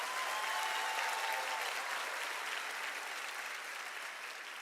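A graduation ceremony audience at a University of South Africa autumn ceremony applauds in a steady, dense wash of clapping that fills the whole stretch and tapers only slightly toward the end, with no voices over it.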